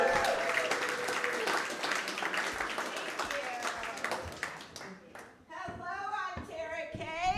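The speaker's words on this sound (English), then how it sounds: "Make some noise for your next comedian of the evening." A comedy club audience applauds and cheers for the next comedian, dense clapping that fades, then a voice speaks over scattered claps.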